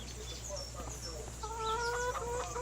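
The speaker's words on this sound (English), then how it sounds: "And here is the chickens." Chickens cluck softly in a Farming Simulator 25 coop at night, a few hens making short repeated calls over a steady low game hum and faint ambient noise.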